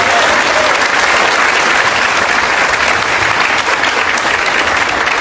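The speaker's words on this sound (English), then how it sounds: "Can we get one more round of applause for our teachers?" A large audience at a Harvest of the Heart 2024 event applauding teachers, dense loud clapping held steady throughout, close and filling the space.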